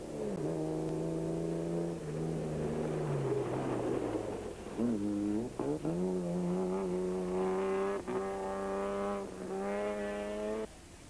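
A Toyota Hilux rally racer in the 1996 Sugarbelt 400 off-road race roars loud and close, revving and shifting through gears with rising, falling engine tones and a brief tire-squeal edge, alone without talk.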